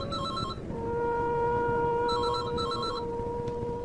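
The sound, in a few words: telephone ringing tone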